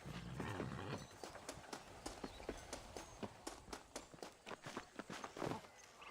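Horse hooves in the Western video game Red Dead Redemption thud in a quick, steady clip-clop gait at close range, set against a faint, constant background wash.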